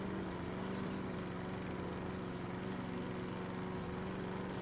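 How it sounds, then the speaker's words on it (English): Lawn mower in the House Flipper video game, cutting grass under a fence; a steady, even motor drone with a whiny tone runs without pause throughout, fairly quiet and not covered by any talk. "Mowing under a fence."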